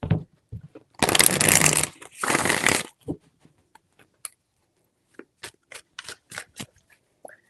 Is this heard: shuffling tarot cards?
yes